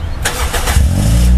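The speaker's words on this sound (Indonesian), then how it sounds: "ini udah termasuk suara knalpot juga gini, Om" A modified car with an added aftermarket exhaust (knalpot) starts up, a close, loud engine that catches and settles into a deep, rumbling idle.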